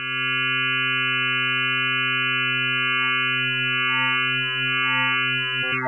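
Synth Tech E350 wavetable oscillator running dry with modulation, a sustained bright harmonic drone whose tone shifts slowly, steady and loud, ending with a brief glitchy sweep.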